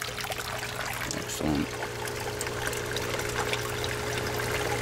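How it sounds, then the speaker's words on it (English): Water flows steadily through a hot tub aquaponics bio ball swirl filter, a constant trickling rush that runs throughout, with a short spoken word near the middle. "Open the vacuum. There we go. Got some nice water going."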